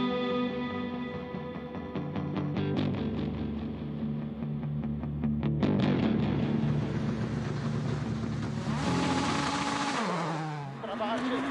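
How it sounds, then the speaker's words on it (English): A Skoda Fabia S2000 rally car pulls away from the start on a hot, dusty gravel stage of the Sibiu Rally in Romania. Its engine revs hard and close, rising and dropping through several quick gear changes. "There he is away from the start then, on board with Kopecký and Dresler"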